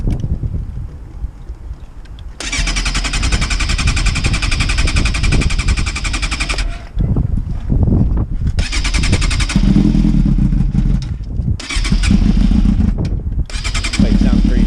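A crashed Yamaha YZF600R sport bike roars close by with loud sustained revving in long bursts that drop off and pick up again, with a rough, wind-buffeted edge.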